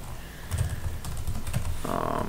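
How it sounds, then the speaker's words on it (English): Quick, fairly quiet clatter of keys as MATLAB code is typed on a computer keyboard in a terminal Vim window, irregular tapping bursts close to the microphone. "So let's type in some MATLAB here."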